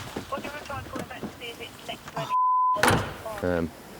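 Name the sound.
police car door being shut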